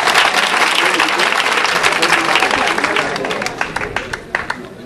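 Loud, dense applause from an audience honours a physical education teacher at a school excellence awards day in N'Guyakro, thinning toward the end into scattered individual claps.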